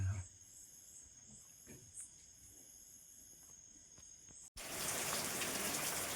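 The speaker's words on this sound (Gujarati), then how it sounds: "અત્યારે પાછો વરસાદ ચાલુ થઈ ગયો છે" Steady rain falls outside with water dripping from the eaves, crickets chirping faintly beneath; after a brief cut the rain swells into a loud, dense wash of hiss.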